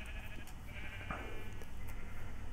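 A sheep in the Minecraft video game bleats inside a pen, a short faint call heard over a steady low background hum.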